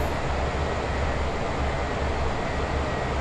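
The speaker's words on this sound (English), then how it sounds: "And just sit here and watch the train." A CSX heavy-haul coal train rolls past in Train Sim World, a steady, loud, broadband rumble and rush of rail cars without a break.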